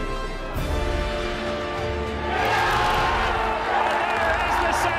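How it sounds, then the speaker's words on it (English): Football crowd at Seaview roaring and swelling louder in the stands, dense massed cheering and shouts that build midway, with a commentator's voice over the top. "The early news of Cliftonville going ahead has raised the volume of the crowd here at Seaview"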